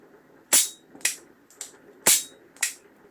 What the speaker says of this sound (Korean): 공탄 사격 해보겠습니다. 더블 액션을 할게요.